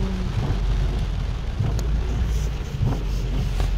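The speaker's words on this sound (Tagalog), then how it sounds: "grabe yung ulan, no?" Heavy rain pours steadily on a rainy day in Saudi Arabia, a dense, continuous wash of noise with occasional louder spatters throughout.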